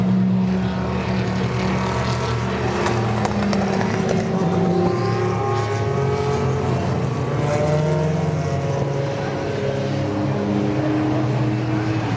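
Race cars at the 2024 24 Hours of Le Mans, a loud continuous engine roar with rising and falling pitch sweeps as cars pass by, heard from the trackside crowd area without talk.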